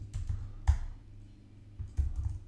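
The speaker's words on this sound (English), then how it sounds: "I'll just type" Soft clusters of key taps on a computer keyboard while typing text in Photoshop, quiet and close, in two short bursts with a pause between.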